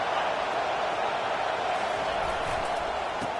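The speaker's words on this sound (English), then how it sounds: "This crowd bringing the energy and noise early." A college football stadium crowd roars steadily during a game, a broad, continuous wash of distant noise with no breaks and no clear individual voices.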